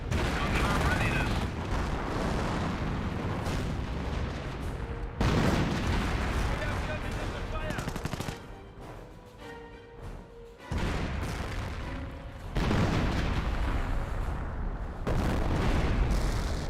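A British 25-pounder artillery piece firing in Company of Heroes, heard as repeated booming shots and crackling gunfire within a dense, continuous battle din, with a brief quieter lull midway.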